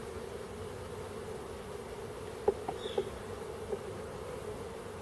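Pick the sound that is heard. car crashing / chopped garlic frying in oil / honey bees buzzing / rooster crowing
honey bees buzzing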